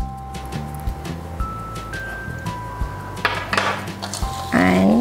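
A spoon works spice powders, including chilli, roasted cumin, fenugreek, turmeric and salt, into cut mango for avakaya pickle in a metal bowl, giving close scraping and clinking strokes in an irregular rhythm with a hum underneath.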